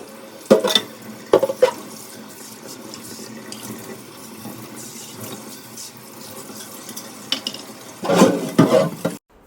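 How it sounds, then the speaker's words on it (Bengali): Hot water and soap scrubbing greasy kitchen chimney parts in a sink, with bursts of splashing and running water near the start and end and softer rubbing and dripping in between, close and moderately loud. "সাবান আর গরম জল দিয়ে ভালো করে মেজে মেজে নিচ্ছি"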